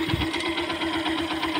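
A Yamaha YTX 125 motorcycle engine fitted with an oil cooler runs at a steady idle with a close, rapid, even knocking thrum, with no talking.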